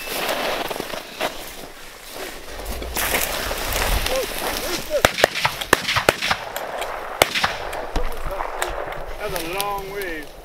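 Gunshots from a rabbit hunt in tall grass outdoors, sharp cracks scattered across the clip with one cluster of several quick reports, heard over wind and people talking.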